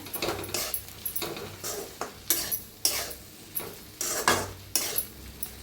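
Okra being stirred in a pan with a ground peanut, sesame and coconut powder, a spoon scraping and knocking the metal in repeated short strokes roughly every half second, close and alone.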